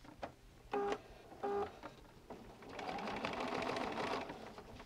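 A sewing machine stitches the seam of a lined Christmas stocking, with two short bursts of beeping tones first, then a steady, close whirring run of stitching that continues to the end.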